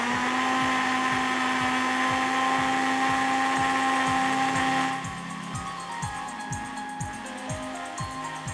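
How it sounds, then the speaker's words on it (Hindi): A kitchen blender runs at a steady high whine while blending a drink of ingredients with water, then its motor drops and sputters unevenly about halfway through, as if struggling; loud and close, with no talk. "कुछ ब्लेंडर प्रॉब्लम कर रहा है।"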